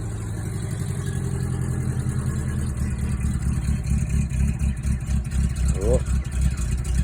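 A 1987 Subaru L series engine idles steadily after a semi-cold start, a close, continuous low rumble with a slightly uneven pulse, and a person speaks briefly over it.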